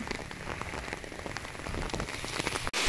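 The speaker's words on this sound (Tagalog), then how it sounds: "May ulan pa rin" Rain patters steadily on a hard surface nearby, dense scattered drops with a sharp knock near the end.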